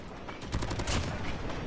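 Distant rapid gunfire from the mobile shooter COD Mobile, a faint cluster of quick shots in the middle of the moment over steady game ambience.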